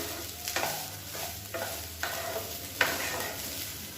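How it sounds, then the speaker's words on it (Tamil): Egg rice is stirred in a pan over a medium flame, a soft frying hiss under repeated scraping strokes of a spatula at a steady rhythm, close up, with no voices. "இப்போ சாதத்தோடு எல்லாத்தையும் நல்லா பரட்டி விட்டுக்கலாம் மீடியமான ஃப்ளேமில் இருக்கட்டும்"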